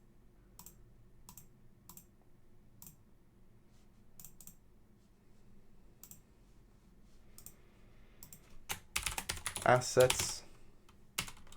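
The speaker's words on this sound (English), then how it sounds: "Now we're just going to type," Keyboard typing on a computer while building a game in C++, with sparse separate key clicks early on that build into a dense, louder burst of rapid keystrokes near the end, mixed with a low background hum and a brief voice.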